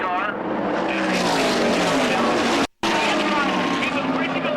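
NASCAR race cars roar past in a dense pack during the Daytona 500, a loud, continuous high engine whine that breaks off briefly for a moment of silence before it resumes.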